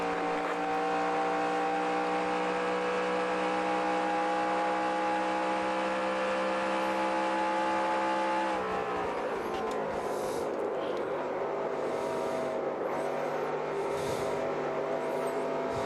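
A NASCAR stock car engine roars through a qualifying lap at Pocono in the NASCAR Racing 2003 video game, a loud sustained drone that holds steady pitch, then dips and roughens as the car slows into a corner.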